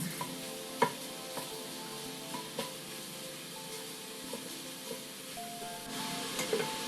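Ground pork for lasagna sauce sizzles in a pot while a spoon stirs it, with soft scrapes and occasional knocks over a steady frying hiss.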